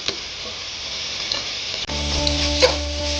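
Chopped onions, green chillies and garlic frying in hot oil in a pan, a soft hiss that jumps to a louder, fuller sizzle partway through, with a faint clink near the end.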